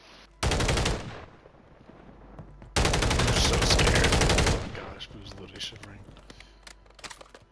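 Gunfire in a video game: two loud bursts of rapid automatic fire, the first short and the second longer, with quieter clicks and faint voices in between.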